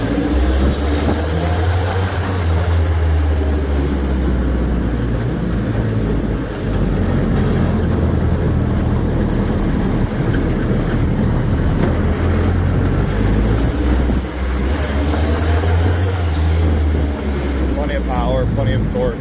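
A Kubota diesel-swapped 6x6 Willys Jeep with a T98 transmission drives steadily in second gear, its engine droning loud and continuous with a deep low rumble throughout.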